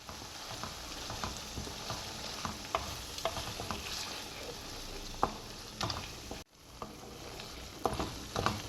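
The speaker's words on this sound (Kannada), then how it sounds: "ಈಗ ರುಬ್ಬಿರೋ ಮಸಾಲೆ ಇದ್ದೀನಿ ಇದನ್ನು ಹಾಕಿ ಎಣ್ಣೆ ಬಿಟ್ಕೊಳ್ಳೋವರೆಗೂ ಫ್ರೈ ಮಾಡಬೇಕು" Ground masala paste frying in oil with curry leaves and turmeric for a coriander-leaf puliyogare, stirred steadily with repeated scraping clicks over a constant close sizzle, a brief pause near the end.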